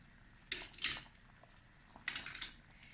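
A metal spoon clinks and scrapes against a pot simmering on low heat in two short bursts of stirring, close and fairly quiet.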